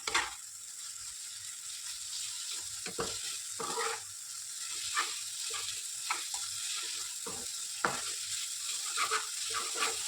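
Ground masala sizzles in oil in a pan while being stirred, a steady hissing fry broken by periodic scraping and clinking strokes of the spoon, close and moderately quiet.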